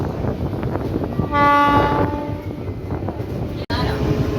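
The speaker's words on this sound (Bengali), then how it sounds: "তো দেওয়ারা ট্রেন ঢুকছে" Train pulling into Deora station sounds a loud, sustained horn blast for about a second amid continuous rumbling wheel and carriage noise, with a sharp clunk later.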